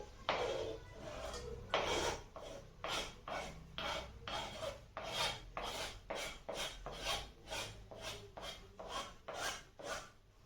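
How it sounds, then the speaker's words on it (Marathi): Grated beetroot being stirred into henna paste, giving a steady series of rasping, scraping strokes from the mixing, fairly close and rhythmic, with no talk over it. "आता सर्वात आधी मी हे जे किसून घेतलेलं आहे बीट ते मिक्स करते याच्यामध्ये"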